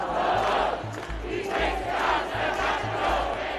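A dense crowd of street protesters in Portland fills the air with a steady, moderately loud roar of overlapping voices and shouts, with a low rhythmic thumping pulsing underneath throughout.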